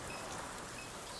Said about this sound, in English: The downpour finds its way into the drainage canal,